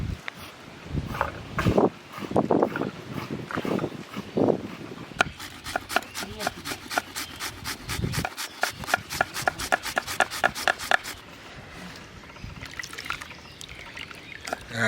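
Potatoes are cut in a hand-operated chopper machine, a quick, even run of rapid rhythmic clicks and scrapes lasting several seconds, preceded by people talking.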